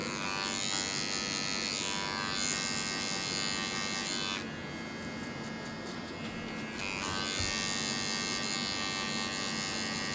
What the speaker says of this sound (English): That's what I like about this clipper right here. I feel like it gets really, really close.